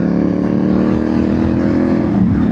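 A Royal Enfield Continental GT 650 motorcycle, freshly serviced, idles close up with a smooth, even low thrum that holds steady and loud without talk.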